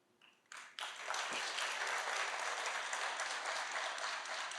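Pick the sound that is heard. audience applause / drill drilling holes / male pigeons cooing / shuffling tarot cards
audience applause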